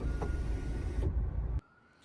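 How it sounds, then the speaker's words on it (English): An electric sunroof on a Hyundai Coupe tilts and slides open with a steady motor whir for about a second and a half, then stops abruptly into near silence. "you can tilt and slide the sunroof open"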